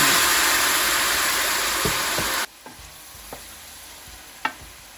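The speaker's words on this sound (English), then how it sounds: "So I'm gonna add a little bit of white wine." White wine poured into a hot pan of sautéed shrimp gives a loud, close, hissing sizzle that cuts off abruptly partway through, followed by near-quiet with a few scattered utensil clicks.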